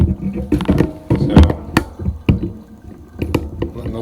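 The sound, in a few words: water draining out of a bathroom sink after shaving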